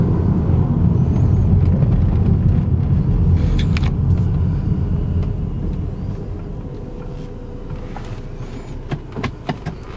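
A 2004 Saab 2.3T car on the road, its engine and tyre rumble steady and loud from inside the cabin, easing slightly as it goes, with a few faint clicks near the end.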